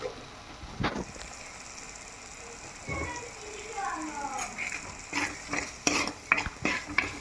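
Masala with chilli powder and coriander powder is stirred in a pan at a roadside food stall, with scraping, clattering spoon strokes over a soft sizzle that grow busier toward the end.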